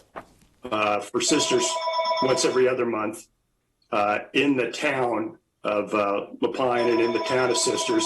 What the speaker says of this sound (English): I apologize for my phone going off